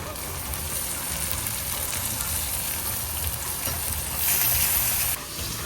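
Mutton tripe (boti) with onions and mint sizzles over low heat, a soft steady frying hiss with stirring and a brief louder burst near the end.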